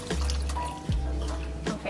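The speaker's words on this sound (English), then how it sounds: "I just take my little mug and put a little water in here" Water poured from a small mug into food cooking on the stove: a soft, steady splash and trickle up close, with a low hum beneath and a brief clunk partway through.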